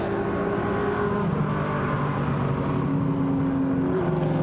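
Historic racing car lapping slowly around Goodwood circuit at about 30 mph, a steady low engine drone with tonal harmonics held throughout, fairly close and continuous, no talk.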